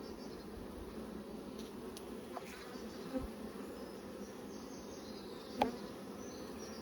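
Honeybees buzz around an open hive during a mite-strip removal inspection, a faint continuous hum with a couple of soft clicks of frames being handled.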